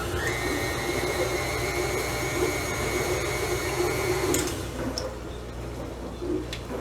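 A kitchen blender runs while mixing ingredients for homemade peanut butter cups, a steady, loud motor whine that cuts off after about four seconds, leaving quieter clicks and rattles.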